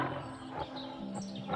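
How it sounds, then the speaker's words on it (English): Tigers roar in a wild setting, a rough, throaty growl rising and falling continuously through the moment, close and moderately loud, with faint birdlike chirps high above. "Can you hear the sounds of the tigers as they roar?"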